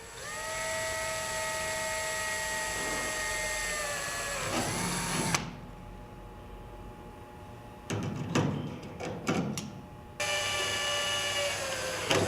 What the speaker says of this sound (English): drill the remaining 1/8 inch holes and cleco in place